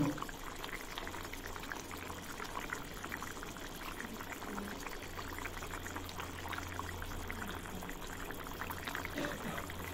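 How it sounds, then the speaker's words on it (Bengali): Chokiya fish going into a pot of boiling vegetable curry, heard as a steady close bubbling and sizzling simmer with faint liquid splashes, constant throughout. "এখন দিয়ে দিচ্ছি মাছ।"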